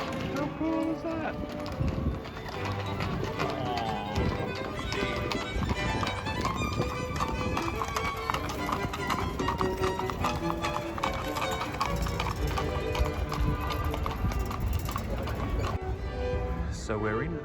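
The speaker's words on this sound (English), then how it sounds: "Horse and carriage coming up the road here." Steady clip-clop of horse hooves on pavement with rattling carriage wheels and mechanical clatter, continuous and fairly close, over a noisy outdoor background, on a road in Vienna, Austria.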